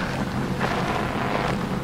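In the horror video game DON'T SCREAM, an engine gives off a loud, steady, noisy rumble that fills the whole stretch without pause and with no voices.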